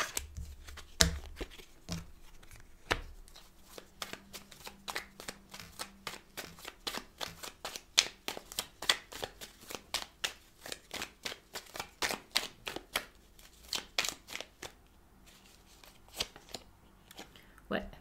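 Tarot cards being shuffled by hand, a long run of crisp, regular riffling snaps and flicks, close and fairly quiet, steady in rhythm throughout, with a voice speaking over them.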